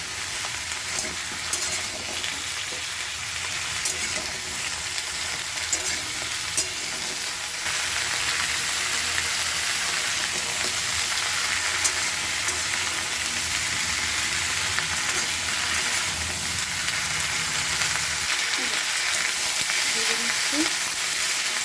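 Mixed winter vegetables fry in a pan tempered with five-spice and dried red chillies, a steady close sizzle with intermittent stirring scrapes, no talking.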